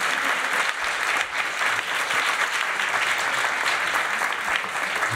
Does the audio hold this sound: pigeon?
no